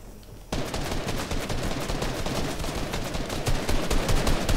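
Rapid automatic gunfire in a video game shootout, dense continuous bursts that kick in abruptly after a quieter start and keep going loud and close throughout.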